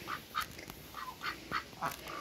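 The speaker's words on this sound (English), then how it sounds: "I have my two Indian runners over here." Indian Runner ducks quacking at a farm, a quiet series of about seven short, nasal quacks in an irregular rhythm over about two seconds, fairly close with no talking.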